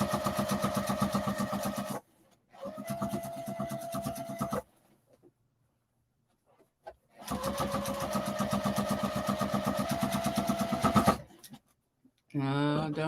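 A sewing machine runs in several bursts of rapid, even needle stitching, close and steady, separated by short pauses of near silence, with a brief final burst at the end.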